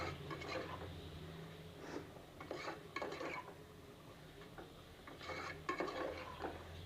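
Spoon stirring curd into mushroom biryani gravy in a metal pot, a series of soft scraping and clinking strokes in uneven bursts, close and fairly quiet.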